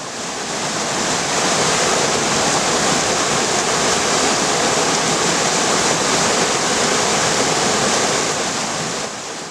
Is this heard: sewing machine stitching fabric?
no